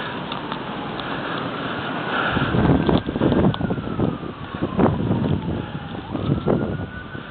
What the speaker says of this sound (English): The wind, yeah.